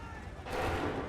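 Musket volley from an Assassin's Creed 3 battle, a sudden dense burst of gunfire erupting midway through and ringing out loud and broad, with shouted orders mixed in.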